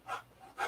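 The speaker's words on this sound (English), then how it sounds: "So it's best to get it close and then sand." Sandpaper rubbed over a balsa wood model aircraft wing, two short soft rasping strokes close by and faint, with a quiet pause between them.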